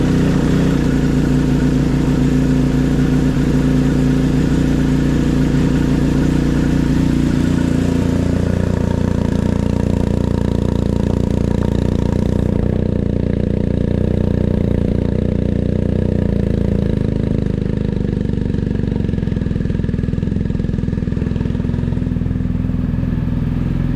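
A BMW R1250GSA motorcycle engine runs loudly up close after an oil and filter change, idling high at first and then settling into a lower, steady idle.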